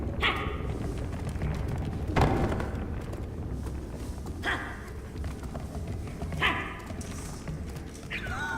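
Several sharp dog barks ring out at intervals in the Never Alone video game, heard against a rumbling wind-like game soundscape with occasional thuds.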